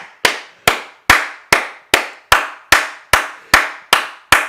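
Worshippers in a church clapping together for the glory of God: a steady, even run of eleven crisp unison claps, each loud and echoing briefly in a reverberant room, with no voices or cheering heard between them.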